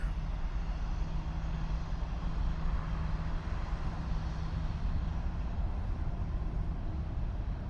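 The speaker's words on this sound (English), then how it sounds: "next here we have Air Canada, Airbus A321 going to Vancouver." An Air Canada Airbus A321 jet at Toronto airport, a steady low engine rumble and broadband roar holding constant, moderately loud and continuous with no voices.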